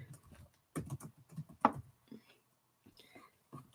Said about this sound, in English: let's see if I can type this time